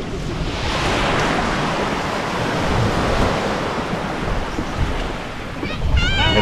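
Steady roar of sea waves breaking and washing ashore, loud and continuous, with wind buffeting the microphone and a voice briefly near the end.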